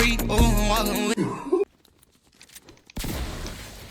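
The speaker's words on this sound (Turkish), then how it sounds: "Şuradan bir silah sesi geldiydi." Gunfire in the Fortnite video game pops as a few scattered, distant shots after a burst of music, followed by a wash of steady noise.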